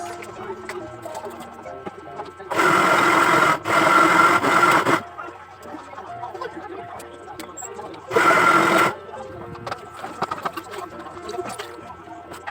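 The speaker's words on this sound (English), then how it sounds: "Blend on high speed for 30 seconds." A blender on high speed pulps soaked paper for recycling, its motor roaring loudly in two separate runs, a longer one followed by a brief burst, with quieter gaps between.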